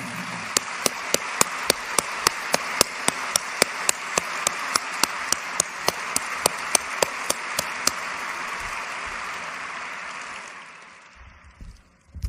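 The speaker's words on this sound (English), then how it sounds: "I'd love to have you give them a real well-deserved round of applause." A dense wash of audience applause at the 2006 Berkshire Hathaway shareholders meeting, with sharp, regular claps standing out above it, fairly loud and steady, then fading out near the end.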